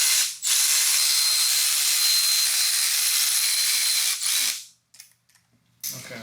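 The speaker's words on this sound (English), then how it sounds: "I'm just going to use the automatic ratchet just to get them down" A power ratchet runs down cylinder head bolts on the engine of a 2002 Cadillac DeVille DTS. It whirs loudly and steadily for about four seconds, then stops, leaving a few faint clicks and workshop noises.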